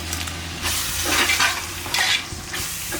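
Onions and tomatoes, about 400 grams each, sauté in a pressure cooker for mutton biryani, a close, continuous sizzle broken by scraping stirs of a spoon against the pot.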